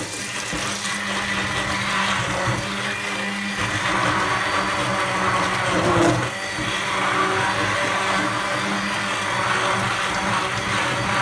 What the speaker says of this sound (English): simple stick blender